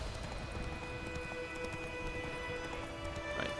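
Horse hooves clip-clopping in The Witcher 3: Wild Hunt, a steady run of faint, quick beats beneath a constant wash of game ambience and background hiss.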